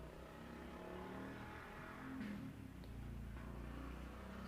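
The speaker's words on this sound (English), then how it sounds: "sorry, it was a loud motorcycle" A loud motorcycle engine roars past, swelling briefly in the middle before fading back into a steady rumbling drone.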